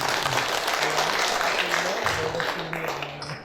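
An audience at an Indonesian public information event claps in dense, sustained applause, while a voice speaks beneath it as the clapping gradually fades.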